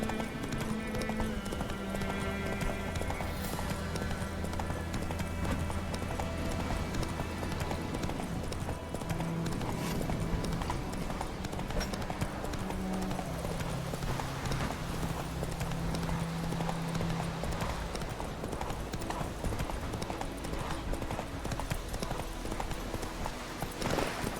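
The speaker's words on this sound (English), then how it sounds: "Run, Roach." Horse hooves galloping steadily in The Witcher 3, a continuous rhythmic clip-clop running under game music and ambience throughout, with a brief whinny possible.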